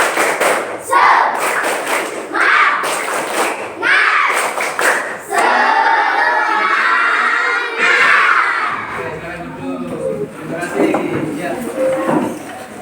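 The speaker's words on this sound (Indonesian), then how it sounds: "Oke, saya hitung 1 sampai 3 nanti kita mulai. 1, 2, 3. Tepuk semangat." A class of schoolchildren performs a rhythmic group spirit clap, bursts of sharp claps in repeated patterns mixed with loud crowd shouting and chanting, close and energetic, ending in cheering.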